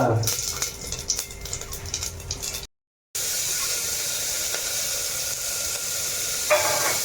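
Cumin seeds crackle and sizzle in hot oil in a home kitchen pan, a loud steady frying hiss running throughout, broken by a brief silent gap partway through.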